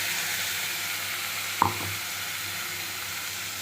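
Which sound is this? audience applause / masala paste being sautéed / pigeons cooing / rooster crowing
masala paste being sautéed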